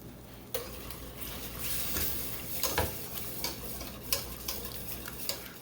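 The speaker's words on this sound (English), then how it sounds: "And now I'm going to switch off to my whisk." A whisk stirring lasagna sauce in a pot, with a soft continuous swishing and scattered light clicks of metal against the pot, fairly quiet and without any talking.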